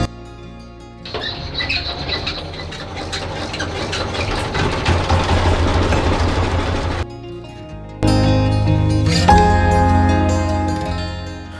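A hired trawler boat's engine runs on a monsoon trip in the Sundarbans, a loud, close, steady chugging drone that drops briefly near the middle and then returns even stronger.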